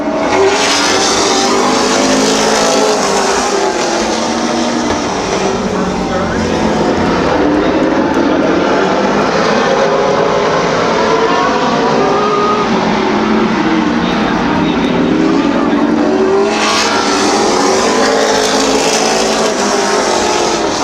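Several race cars roar loudly and continuously at the start of a race at Midvale Speedway, engines revving and droning together with a brief swell of noise near the end.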